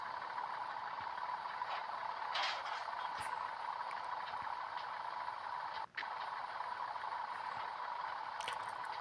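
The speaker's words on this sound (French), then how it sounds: "il fait beaucoup de bruit ce camion" An old diesel truck engine in Truckers of Europe 3 runs loud and steady with a rough, clattering drone, hauling a load of glass, with a brief dropout near the end.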